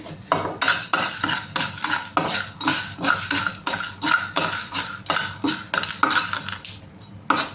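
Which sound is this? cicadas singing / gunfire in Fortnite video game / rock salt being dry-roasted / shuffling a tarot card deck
rock salt being dry-roasted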